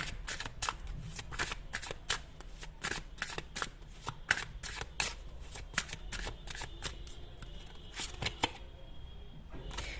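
A deck of tarot cards is shuffled up close in quick, crisp riffles and flutters, the bursts repeating at a steady, brisk pace in a quiet room.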